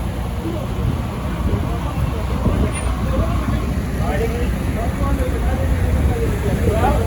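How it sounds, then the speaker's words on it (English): Road traffic passes along a flooded street in The Gambia, a steady low rumble of buses, cars and trucks with one brief air-brake hiss, while people talk faintly over the continuous wash of engines. "You can see the traffic."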